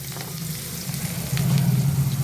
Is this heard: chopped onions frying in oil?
yes